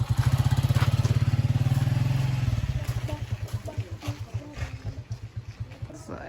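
Five motorcycles ride together on Carabao Island, a close, loud pulsing engine drone that steadies, then breaks into choppier throttle bursts, with faint background talk.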